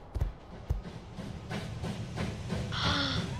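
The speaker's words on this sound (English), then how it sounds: "The train I've always wanted to drive." Train in the video game Wobbly Life, a couple of sharp clanks followed by rolling rumble and rhythmic rail clatter, ending with a loud hiss of steam and a rising tone.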